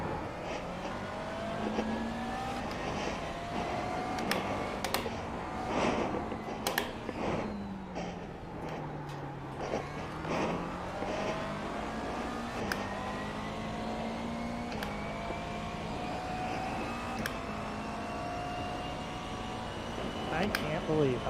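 Race cars pulling away at the start of a Bathurst practice race, engines droning and shifting pitch as several pass at mid distance, with talk throughout.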